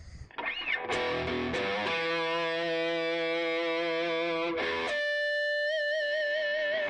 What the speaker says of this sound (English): Let me just hit the lead mode button right here.